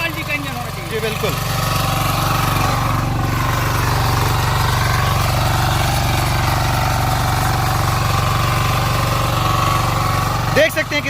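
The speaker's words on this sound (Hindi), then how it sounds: "एक हाथ से पावर वीडर ऑपरेट हो रहा है।" A 9 HP diesel power weeder engine runs at a steady, loud, close idle-like drone for the whole stretch, with a brief change in the last second.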